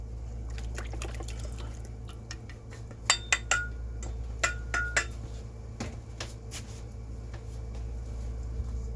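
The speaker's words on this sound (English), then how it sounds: "Now I'm going to mix this with my dry ingredients." Muffin batter being mixed into dry ingredients in a bowl, heard as intermittent clinks and scrapes of a utensil against the bowl, with a few louder knocks midway over a steady low background hum.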